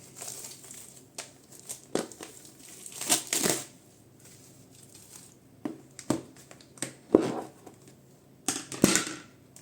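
A small food box is opened by hand, with scattered crinkling and crunching bursts of packaging being handled close by, loudest in a cluster near the middle and again at the end, over a quiet background.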